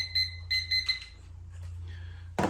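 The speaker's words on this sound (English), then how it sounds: "our timer has went off" A kitchen timer on a one-gallon home-brew setup for a nut brown ale beeps in quick bursts of bright, steady tones, repeating several times before falling silent, then a sharp noise at the end.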